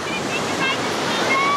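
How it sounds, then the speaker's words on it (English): Ocean waves rolling in at night, a dense continuous rush of surf heard close and loud, with wind noise mixed in and no distinct speech over it. "We're here at the ocean late at night."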